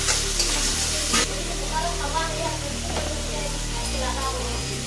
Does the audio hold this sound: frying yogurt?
yes